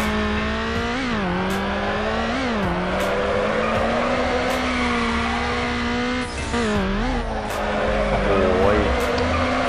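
Toyota Celica GTS drifting in NFS Underground, engine droning at steady high revs with repeated tire squeals and skids as the car slides, alone without talk.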